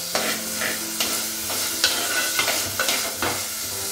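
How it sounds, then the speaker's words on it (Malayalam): Tomatoes sautéing in a pan for a Kerala-style tomato curry, a steady close sizzle punctuated by repeated rhythmic scrapes of a spoon stirring against the pan. "തക്കാളി നന്നായിട്ടൊന്ന് വഴഞ്ഞു വരട്ടെ."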